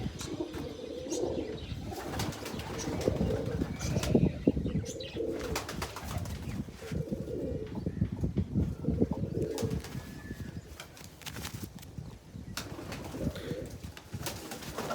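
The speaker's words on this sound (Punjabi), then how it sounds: "ਕਬੂਤਰੀਆਂ ਬਾਈ ਸਾਰੀਆਂ ਚੰਗੀਆਂ ਇੱਕ ਤੋਂ ਇੱਕ" Pigeons coo softly and repeatedly, several overlapping low calls with occasional wing flutters and faint chirps, no talking.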